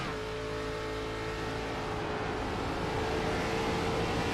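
Onboard race car engine in an ARCA Series race at Watkins Glen, a steady loud roar that rises in pitch and dips briefly as the driver shifts gears, continuous throughout with no voices.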